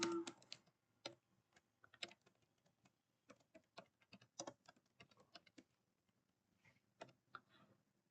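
Keys tapped on a computer keyboard while writing a Java program, a faint, close run of irregular clicks in short bursts with pauses.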